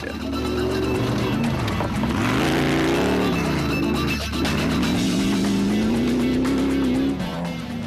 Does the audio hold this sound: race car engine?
yes